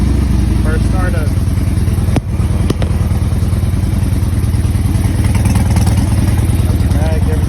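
A Harley-Davidson Road King motorcycle, a salvage-auction bike, starts up and settles into a steady, loud, close rumbling idle with a lumpy pulsing rhythm throughout.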